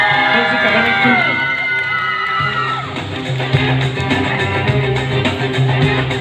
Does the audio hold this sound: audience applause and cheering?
yes